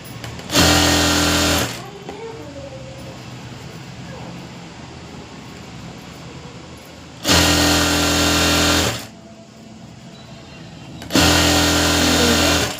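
A sewing machine stitching a skirt in three loud, close bursts of steady whirring motor and needle clatter, separated by quieter stretches where a person talks.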